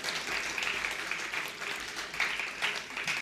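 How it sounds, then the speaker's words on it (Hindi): Steady audience applause fills a theatre award ceremony, dense and sustained clapping from a crowd throughout, with a brief swell near the end before it cuts off. "मैं चाहता हूँ कि नट सम्राट के लिए एक बार ज़ोरदार तालियाँ"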